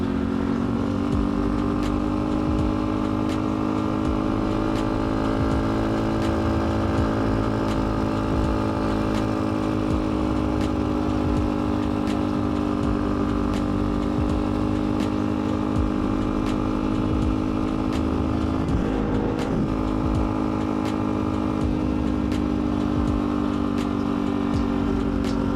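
A pit bike, a small dirt bike, drones steadily as it is ridden around a neighborhood, a loud, close, continuous buzz holding near constant revs with no talk.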